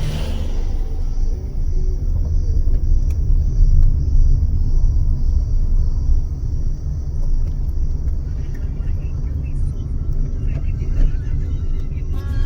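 Vehicles crawl slowly through a traffic jam on the road to the Kainchi Dham temple, a steady low engine rumble close by, with faint horns and voices in the background.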